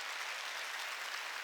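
A congregation applauds during a church service, a dense, even wash of many hands clapping at once that holds steady without pause.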